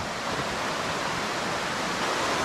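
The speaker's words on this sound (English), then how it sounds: "This is where the two creeks merge." Two creeks merging near Dark Prong Falls in Pisgah National Forest, heard as a loud, unbroken broadband rush of tumbling water that fills the whole stretch with no gaps or voices.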